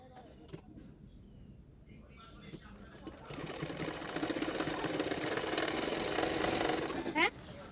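A sewing machine stitches the shoulder seams of a designer long frock, its motor whirring into a steady, louder mechanical drone partway through before easing off near the end.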